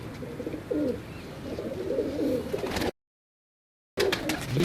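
Close, continuous cooing from domestic dub pigeons, several birds overlapping in a soft rolling murmur, cut by a short gap of silence.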